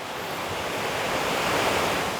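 Tessentee Creek rushing beneath a bridge in the Appalachian hills, a steady, even wash of flowing water close by with no break or pause.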